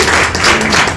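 Audience at a seminar event applauding to welcome guests, a dense, loud wash of clapping from a crowd close by.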